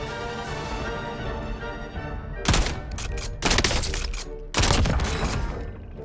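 Gunfire in the online shooter Warzone comes in three loud, sharp bursts close together, each a dense rattle of shots, with a continuous low game-sound bed between them.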